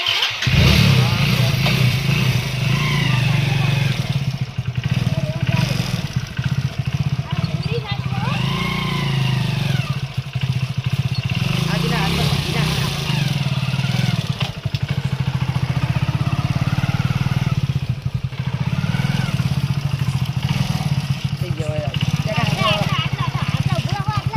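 Motorcycle engine running steadily and loud throughout, a continuous mid-pitched drone with slight revving swells, while people talk over it nearly the whole time.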